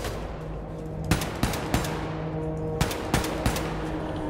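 Shotgun gunfire in the Wolfenstein II video game: six sharp, loud blasts spaced about a third to over a second apart, over a steady background of in-game ambience and battle noise.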